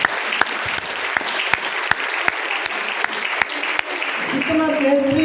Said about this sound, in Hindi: जोरदार तालियां मलेशिया के नाम पर।